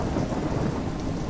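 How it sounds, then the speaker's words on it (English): A thunderstorm with rain in the game Life is Strange makes a low rumbling roar under steady rainfall, continuous and fairly quiet, with no voices. "I guess the storm looks pretty dangerous"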